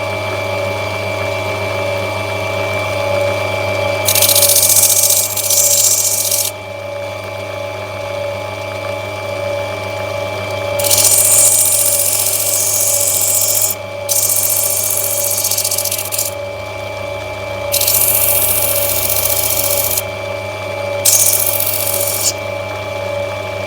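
Lightning Ridge black opal is rubbed back on a grinding wheel: a steady motor hum runs throughout while loud hissing grinding bursts come and go as the stone is pressed on and lifted off.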